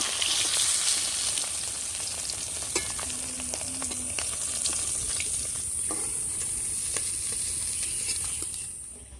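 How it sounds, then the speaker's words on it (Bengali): Rohu fish frying in hot oil in a village kitchen, a loud, dense, steady sizzle with crackling pops and a few scraping clinks, running alone without talk before fading at the end. "মাছ ভাজা হয়ে গেছে এবার আমি তুলে নেব"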